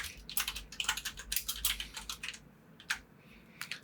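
Rapid, irregular computer keyboard typing at close range, a quick burst of clicks that pauses briefly before a few final keystrokes, with no voices.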